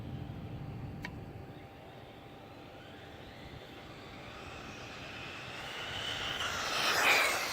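An HSP XSTR RC car on a high-speed run at up to 64 mph gives a distant motor whine that swells steadily as it approaches, peaking loud and close near the end.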